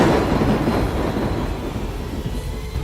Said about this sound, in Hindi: बिजली कड़कती है।